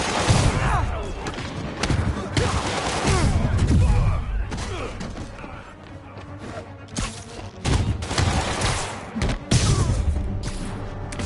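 Armed enemies fire guns during a brawl in the Spider-Man video game, with bursts of shots mixed with heavy thumps and crashes, loud and chaotic, and occasional voices over the action.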